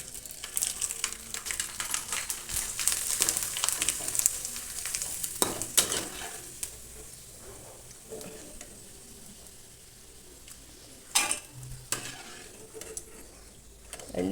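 Potato chips fry in very hot oil with a steady, bright sizzle, while a utensil stirs and scrapes the pan in a few sharp clatters, close up with no talk.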